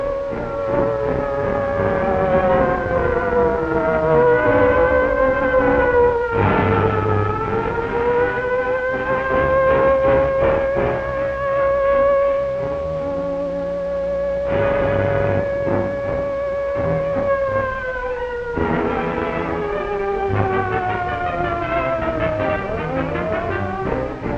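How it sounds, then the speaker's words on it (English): A loud air raid siren wails continuously, its pitch slowly rising and falling in long sweeps, with engine-like rumble underneath and no talking. It is a 1943 rehearsal of the world's largest single siren system in Vancouver, British Columbia. "the largest single siren system in the world sets up its warning wail"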